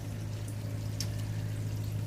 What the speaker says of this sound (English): The water fills the bed to a predetermined amount.